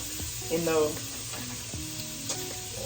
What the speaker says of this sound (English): I fully cook my sausage before I add anything else.